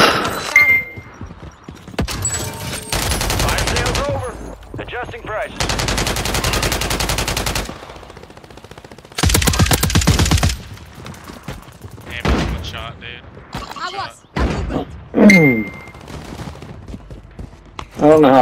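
Bursts of automatic gunfire from WSP-9 weapons in the Call of Duty Modern Warfare 3 Warzone shooter game, with sustained rapid volleys broken by pauses and occasional thumps and impacts. Player voices can be heard between the shots.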